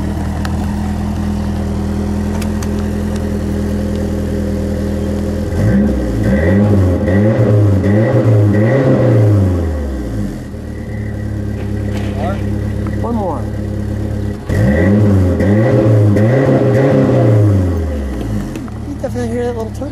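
A 1985 Ford Mustang SVO turbo engine with dual exhaust, slightly detuned, revved in two or three rising and falling bursts over a steady idle. It sounds close and loud, with voices talking between revs.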